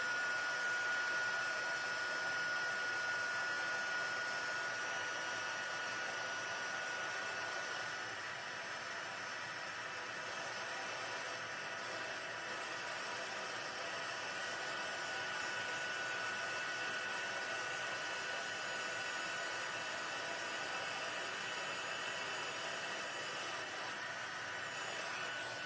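An electric embossing heat tool blows hot air over freshly stamped ink in a steady, continuous whir that holds for the whole stretch, close and fairly loud with no talk over it.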